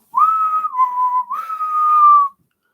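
A person whistles a single clear tone that holds, dips slightly, then rises and sustains for about two seconds, close and alone with no other sound.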